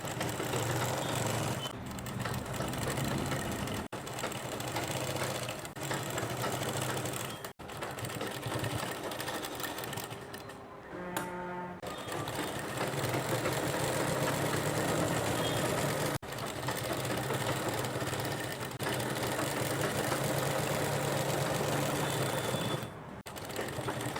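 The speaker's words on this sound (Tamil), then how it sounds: "நீங்கள் இந்த சைடு ஜாயின் பண்ணும்பொழுது இப்படி கீழே இருந்தே தைச்சிட்டு வாங்க." A sewing machine stitches the side seam of a silk pavadai skirt, its steady motor whir running loud and continuous with a brief pause midway before resuming.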